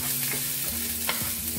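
Onion fries in a pan with a lively continuous sizzle, crackling under a steady low hum, with a couple of brief clicks from stirring.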